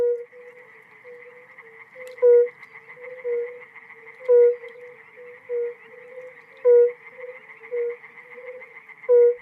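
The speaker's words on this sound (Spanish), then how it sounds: "el aire se llena de las llamadas de las ranas arbóreas y de los sapos" A chorus of tree frogs and toads trills continuously, with louder pulsing croaks breaking through roughly every second or two, clear and close in an otherwise quiet night.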